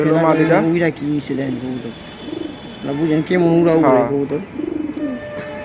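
Pigeons cooing close by in a loft where birds are being sold, repeated throaty coos in bursts, with people talking over them.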